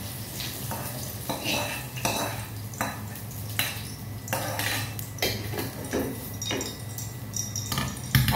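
Utensils scrape and clink against a pan and mixer jar in quick, irregular strokes as cooked onions are transferred, with a light sizzle underneath and no talking.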